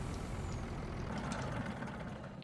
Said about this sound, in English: Alright, so I'm just going to park this truck